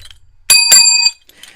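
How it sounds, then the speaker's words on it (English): A single bright bicycle-style bell ding, struck twice in quick succession and ringing briefly before fading, loud and alone against near silence. "I feel like I should press the bell."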